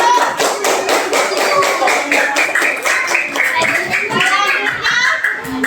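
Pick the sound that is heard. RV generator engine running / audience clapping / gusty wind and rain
audience clapping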